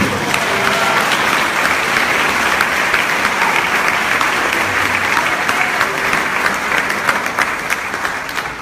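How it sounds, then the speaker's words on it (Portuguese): A church congregation at a service applauds the Lord, with loud, dense clapping from many hands that stays steady for several seconds before easing slightly at the end. "Pode aplaudir mais uma vez ao Senhor"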